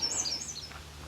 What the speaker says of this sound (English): Birds are singing everywhere.